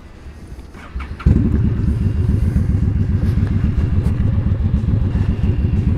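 Honda Shadow motorcycle in cold weather, starter held as the engine catches at about one second, then a loud, close, steady idle with a rapid lumpy thump, no talk.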